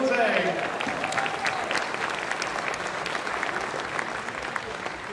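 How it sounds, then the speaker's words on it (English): Audience applause for dancers Gail and Jose at a charity dance competition, steady mid-level clapping throughout, with a voice briefly heard at the start. "Give a big round of applause for Gail and Jose"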